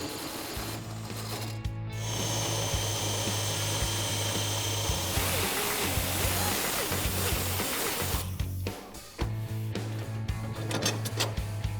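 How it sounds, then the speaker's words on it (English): A drill spins a 1 3/8-inch hole saw through material during a hydraulic clutch install, with a steady grinding whine, briefly pausing and restarting, loud and close. "We're gonna use an 1 3/8" hole saw to drill our hole"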